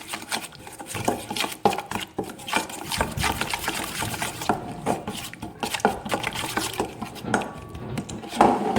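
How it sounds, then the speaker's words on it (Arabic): A fish and mushroom filling is stirred in a pan, giving close, quiet scraping, clinking and shuffling with irregular spoon taps against the metal and no talking. "المهم غادي نحرك كلشي"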